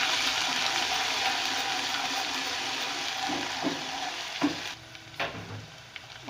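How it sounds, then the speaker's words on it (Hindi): Onions frying with garlic ginger paste in a pan, a loud continuous sizzle that dips and flares as the mixture is stirred, with a few scraping knocks near the end, close up and without talk. "अब इसके अंदर मैं 2 टेबलस्पून लहसुन अदरक का पेस्ट डाल रही हूँ और इसे भी डालकर मैं बहुत अच्छी तरह भून लूँगी"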